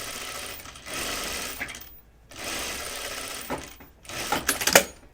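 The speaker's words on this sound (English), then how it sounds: "I'm going to stitch just inside, all the way around between those two notches" A sewing machine stitches a set-in sleeve seam in close, loud bursts, two longer runs separated by short pauses, then a rattling final stretch.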